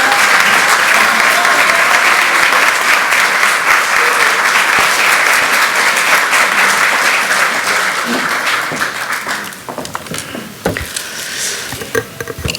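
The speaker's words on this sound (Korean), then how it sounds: "뜨거운 환영의 박수 부탁드리겠습니다" Heavy applause welcoming a speaker at a Korean National Assembly gathering of lawmakers, a loud dense wash of clapping that keeps up for several seconds before thinning to scattered claps near the end.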